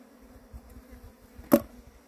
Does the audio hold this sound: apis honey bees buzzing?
yes